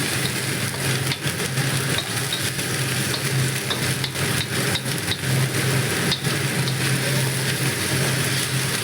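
Onions with salt frying for shahi paneer, a steady loud sizzle with frequent scraping and clattering stirring strokes of a spoon against the pan, continuous throughout.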